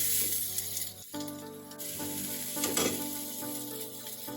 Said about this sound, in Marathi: टोमॅटो चांगली भाजून घ्यायची